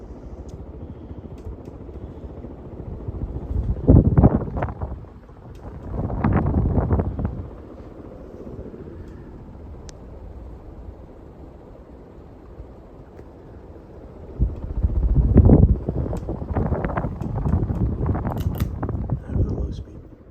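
A restored 1977 Emerson heat fan runs on high speed, its steady motor whir humming beneath a voice, with louder rushing swells at intervals.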